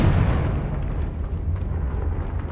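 A fire spell explosion from Hogwarts Legacy, Confringo, booms with a loud low rumble that starts strong and rolls on for a couple of seconds as the blast decays, with no talking over it.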